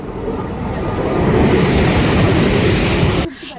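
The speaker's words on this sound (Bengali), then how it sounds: "আমাদের ট্রেন চলে এসছে" A train rolls into a station in the rain with a loud, close, rumbling roar that swells and holds for about three seconds, then drops away sharply.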